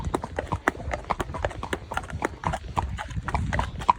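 Steady clip-clop of a horse's hooves on a hack, a substantial cob-type mare ridden out alongside other horses, the footfalls close and rhythmic with a faint voice now and then.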